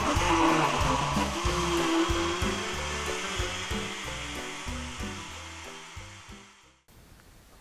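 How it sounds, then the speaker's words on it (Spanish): Blender whirring loudly as it mixes mango flan batter, a steady churning roar that runs for about seven seconds before cutting off abruptly. "Lo llevamos a licuar."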